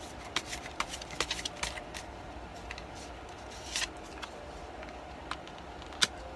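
Tarot cards being shuffled close by in quiet surroundings, a series of soft, quick riffling flicks and taps in irregular bursts, with one sharper snap near the end.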